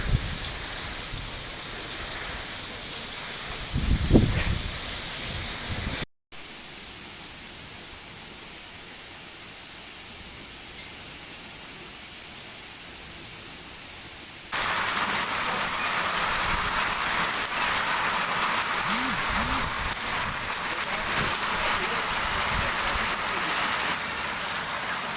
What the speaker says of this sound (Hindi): सागर में तेज हवाओं के साथ बारिश का दौर शुरू हो गया है।